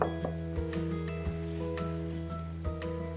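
Hot oil sizzles steadily in a pan as turmeric, salt and curry powder are stirred in for a Sri Lankan cowpea mallum, with a continuous close crackling hiss and a few soft clatters.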